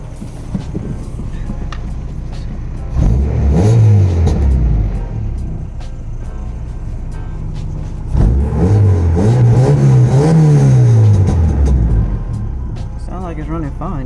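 A Honda H2B car engine, running after its timing belt fell off from a broken idler pulley bolt, hums steadily up close and is revved twice in rising and falling swells, with people talking over it.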